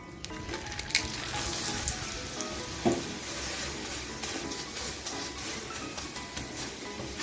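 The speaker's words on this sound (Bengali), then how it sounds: "দিয়ে পরোটাটা ভালো করে ভেজে নেব।" A green pea paratha fries in white oil in a kadai with a continuous hissing sizzle, dotted with a few faint clicks and utensil taps.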